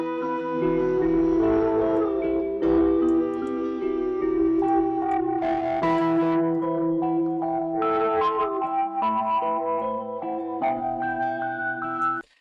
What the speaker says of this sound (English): You'll hear it get more saturated, meaning adding more warmth to it.